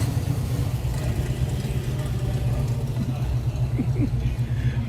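A car engine runs steadily with a low, continuous idle-like rumble throughout, out at a Roadkill Power Tour event, with faint background voices.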